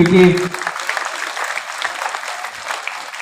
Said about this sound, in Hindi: तो पहले तो आप लोग जोरदार तालियां अपने आप के लिए बजा लीजिए